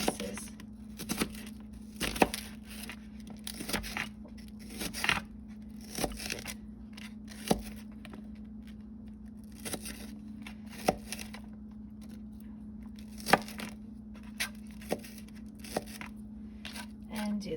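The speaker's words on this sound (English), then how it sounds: "Then I'm going to cut the onion in half, and I'm just going to cut small slices." A knife slices an onion on a cutting board for a homemade meatloaf, giving a string of sharp, close crisp cuts at an uneven pace over a low background hum.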